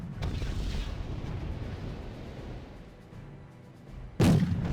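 Tank shell fire in the Wargame AirLand Battle video game, a booming rumbling cannon blast at the start, a low ongoing battlefield rumble, then a second heavy report near the end.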